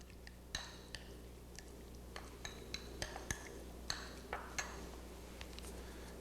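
A spoon clinks lightly and irregularly against a bowl while grated cucumber sauce is stirred, giving a scatter of faint, close taps and chinks over a quiet background.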